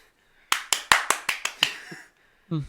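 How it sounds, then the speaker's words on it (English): A single person claps hands sharply seven times in a quick, slightly uneven rhythm, close and clear in a quiet room, followed by a short burst of a voice. "He likes to clap when he talks."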